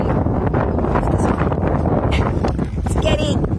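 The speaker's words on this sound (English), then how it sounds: "it's getting really windy" Strong outdoor wind buffets the microphone in rough, rumbling gusts, loud and close, with a person talking over it.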